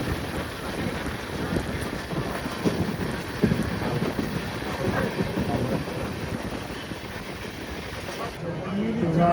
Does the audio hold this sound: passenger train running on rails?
yes